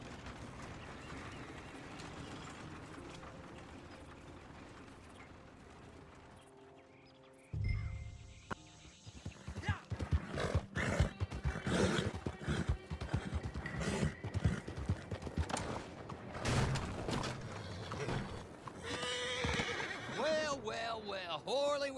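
A horse whinnies and its hooves clip-clop in a Red Dead Online cutscene, the neighs rising in bursts over busy footfalls and movement, with voices talking nearby.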